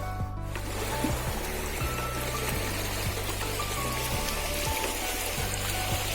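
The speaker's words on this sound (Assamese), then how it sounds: "কিন্তু বৰষুণটো বহুত বেছি বাঢ়ি আহিছে" Heavy rain pours down steadily outdoors along a forest track where elephants pass, a dense loud wash of drops with a low rumble underneath and no voices.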